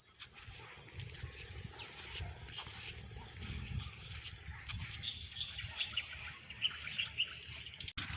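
Birds chirp and call intermittently at dusk in a rural village, over a steady high insect drone, fairly distant and soft, with a quiet low rumble underneath.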